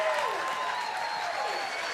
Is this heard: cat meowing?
no